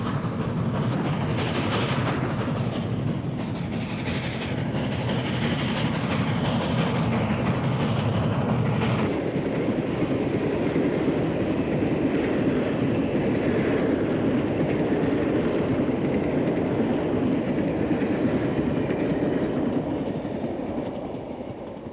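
A long steam-hauled Denver local, train number 52, laboring over Sherman Hill with extra holiday cars makes a loud, continuous rumbling roar, with the character of the sound shifting partway through as it passes.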